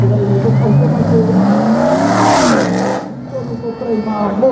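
A five-litre vintage Mercedes automatic at a rally start for classic cars, its engine revving loudly and steadily up to a peak, then dropping as it pulls away, with a commentator talking over it.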